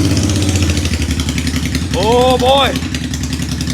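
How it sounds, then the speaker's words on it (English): A Honda Shadow motorcycle with a misfire idles on two cylinders nearby, a loud uneven chugging pulse while a man exclaims briefly over it. "It's idling on 2 cylinders!"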